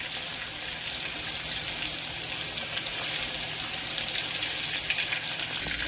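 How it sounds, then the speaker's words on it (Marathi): Garlic fries in hot oil with cumin for a masoor dal tempering, a dense continuous sizzle that stays fairly loud and even throughout with no talking. "लसूण छान असा लाल होऊ द्यायचा म्हणजे छान फोडणी येते."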